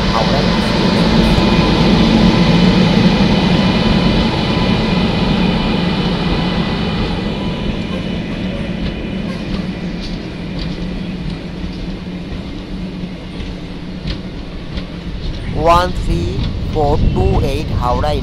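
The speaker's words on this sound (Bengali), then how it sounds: "Indian railway 13428 Howrah intercity express" Howrah Intercity Express 13428 passing Bandel station in India, a steady loud rumble of rolling wheels and engine noise that slowly fades, with horn-like tonal bursts near the end.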